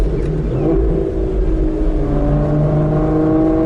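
An Aston Martin's V12 engine revs steadily up through a rising whine, its loud mechanical roar filling the whole stretch with no voices.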